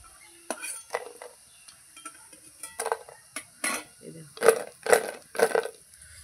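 Cauliflower pakoras fry in a pan, with a soft sizzle under a run of sharp metallic clinks and scrapes of a utensil against the cookware.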